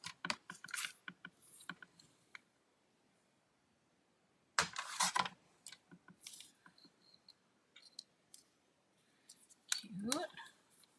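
Scissors trim a sheet of craft foil in short snips and crinkly cuts, close and fairly quiet, with someone talking between bursts of cutting.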